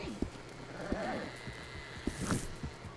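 In the video game Red Dead Online, a horse's hooves thud in an uneven rhythm as it runs off when another vehicle is called, with a voice talking over the top.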